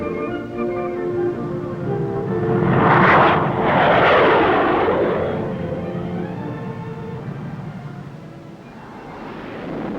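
An A-4 Skyhawk jet aircraft roars past at dusk during Marine fighter pilot training, its loud engine swelling to a peak, sweeping through a shifting tone as it passes, then fading away.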